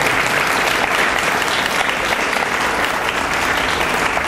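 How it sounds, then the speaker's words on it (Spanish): Loud, sustained applause from a church congregation, a dense unbroken wash of clapping hands filling the room from start to finish with no talking over it. "Denle fuerte aplauso al Señor"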